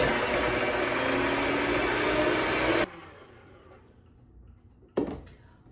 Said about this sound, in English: Okay, so we've beaten our egg whites.